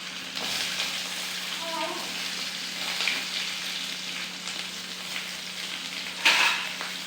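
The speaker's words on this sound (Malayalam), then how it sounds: "ഇനി നമുക്ക് സവാള ഇടുക." Onions fry in hot oil with curry leaves for a sardine curry, a continuous even sizzle with a brief louder crackle near the end and faint background sounds.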